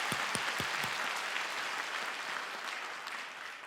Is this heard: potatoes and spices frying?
no